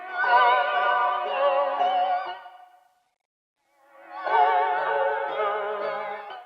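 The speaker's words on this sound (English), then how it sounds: "what I did was I made these chops which sound like this." Chopped guitar sample for a trap beat: two warbling, effected chord phrases of about two seconds each, separated by a clean gap of silence, moderate and close.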